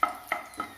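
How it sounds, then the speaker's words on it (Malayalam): Whole cloves and cardamom pods get stirred in a hot pan for an egg curry, a spoon scraping in quick, light strokes with faint sizzling underneath. "അതൊന്ന് ഇളക്കി കൊടുക്കുക"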